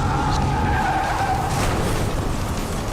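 Cars skid with a long tire squeal during a night-time film car chase, loud and continuous with engine roar beneath, a sustained screech that fades toward the end.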